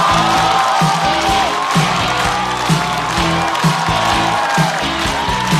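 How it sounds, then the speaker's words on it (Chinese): Studio audience on a Chinese stand-up comedy show applauds and cheers as comedian Caicai is welcomed onstage, a dense, steady wash of clapping and whoops filling the room throughout, with no talk over it. "掌声欢迎菜菜"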